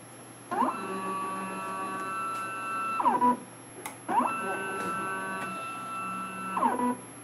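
An automated optical inspection machine capturing an image of a PC board gives two steady mechanical whirring passes with clear tonal harmonics, each starting and stopping with a rising and falling sweep, separated by a brief pause and a soft click.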